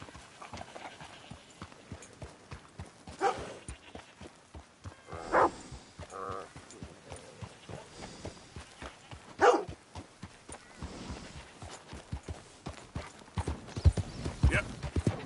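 Horse hooves clip-clopping in a PS4 video game, a steady, close, rhythmic gait with a couple of whinnies and some barking dog sounds mixed in, while a player talks over it.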